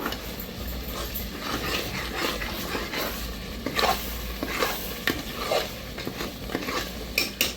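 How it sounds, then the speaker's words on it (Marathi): Spice masala frying in oil for a spicy chicken curry, stirred with a utensil that scrapes and clinks against the pot in uneven strokes over a continuous close sizzle. "आपल्या मसाल्याला चांगलं तेल सुटतंय आणि मसालाही चांगला भाजला जातोय"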